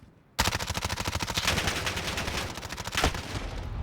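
Sustained rapid automatic gunfire in a first-person shooter game, a dense close-range burst of evenly spaced shots lasting several seconds with a couple of louder impacts near the end, heard alone without talk.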